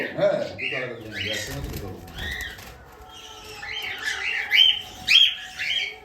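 Java sparrows give short, bright chirps and squeaky calls in a few quick bursts, close by and fairly soft. People talk over them throughout.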